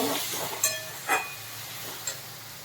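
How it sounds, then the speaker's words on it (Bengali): A soft, steady sizzle of garlic paste frying in oil, with a few light clinks of a utensil against the pan. "রসুনটা ভাজা হয়ে গেছে"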